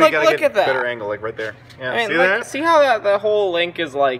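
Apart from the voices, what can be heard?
No distinct noise like a dog, phone or traffic.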